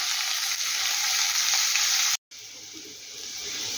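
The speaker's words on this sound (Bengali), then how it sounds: "পেঁয়াজটাকে একটু ভেজে নেবো আমি।" Onions frying in a pan for a potato snack, giving a loud, steady, close sizzle with a brief break partway through before the hiss carries on slightly quieter.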